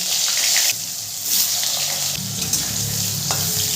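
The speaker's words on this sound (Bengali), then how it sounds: "আলুটাও ভালো করে নেড়ে চেড়ে আমি ভেজে নেব।" Cut potatoes fry in hot oil with cumin seeds, a loud continuous sizzle broken by scraping and shifting sounds as they are stirred.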